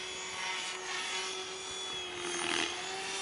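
A radio-controlled helicopter fitted with an HC3-SX flybarless stabiliser whines steadily in flight, its rotor and motor drone holding a constant pitch as it levels out from a bailout, with no voices.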